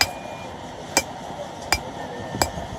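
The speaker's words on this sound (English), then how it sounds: "And this is all by hand with a hammer." Gold ore being crushed by hand with a hammer to gravel size at a small-scale mine in Kenya: three sharp metallic strikes spaced under a second apart, close and distinct over a quiet background hum.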